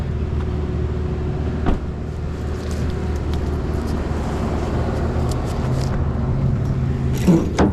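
A Mini machine's engine idling steadily right after being started, a loud continuous low rumble with a few clanks on top.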